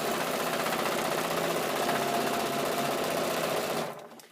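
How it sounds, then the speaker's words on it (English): Sewing machine stitching a fabric and interfacing strip along a quarter-inch seam for a shingle and clapboard quilt block, a steady close whirring hum that runs continuously before winding down at the end. "sew on with a 1/4 inch seam"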